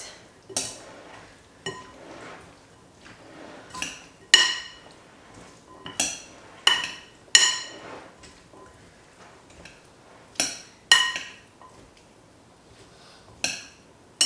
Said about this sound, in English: And now let's mix our salad.